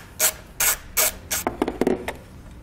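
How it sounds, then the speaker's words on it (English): A ratchet fitted with a 10 mm socket turns a nut off a vehicle ground point, first four evenly spaced rasping strokes, then a quicker run of shorter clicks, close and clear with no talk. "we'll use a 10 millimeter socket to remove the nut off of this ground point right here"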